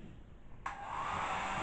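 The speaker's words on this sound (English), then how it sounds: "Okay, so there's the hairdryer." A hair dryer switches on abruptly and blows with a steady, loud whooshing hum that continues without pause.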